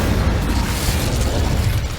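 Incendio fire spell cast in the Hogwarts Legacy video game, a dense, roaring burst of fiery noise with a heavy low rumble that stays loud and steady for about two seconds.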